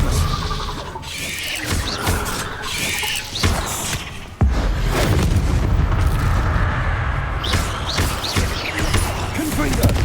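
Expelliarmus spell cast in Hogwarts Legacy, a burst of sharp magical cracks and bangs amid a busy, loud duel with other spell blasts, followed by a heavy impact and continuing clatter.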